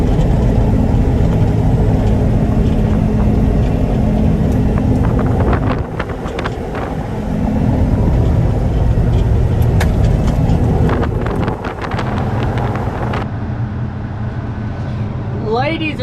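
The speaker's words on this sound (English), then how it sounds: "the New Holland is pulling the full Brent like a champ" A New Holland tractor pulls a full Brent grain cart during a corn harvest, its engine a loud steady drone buffeted by wind noise, with a brief dip midway and a voice talking over it.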